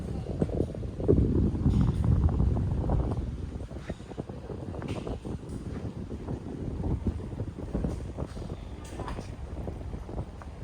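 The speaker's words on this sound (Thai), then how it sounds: "ลมเย็นมาก" Cold seaside wind at Ao Khung Kraben in Chanthaburi, Thailand, buffets close with a continuous rumbling roar, swelling and easing over several seconds, faint voices briefly in the background.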